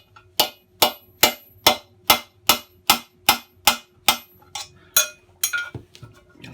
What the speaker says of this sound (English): So I've got a bar to drift the bearing out with and a hammer.